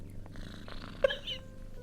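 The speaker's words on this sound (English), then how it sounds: "I can't turn the purring down." A cat in a Sherlock Holmes retirement simulator game purrs softly and continuously, close and low, with a faint chirp partway through.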